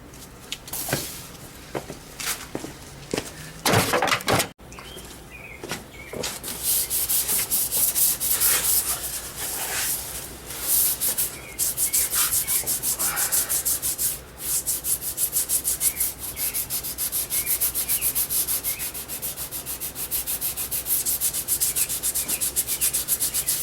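Steady, rhythmic rasping of sandpaper on glazing putty over primer on a BMW 2002 body, close and loud, continuing for a long stretch after a few short strokes at the start.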